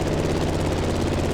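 An airplane taking off in The Crew Motorfest gives a steady, loud engine roar with a low propeller-like drone, continuous and close throughout.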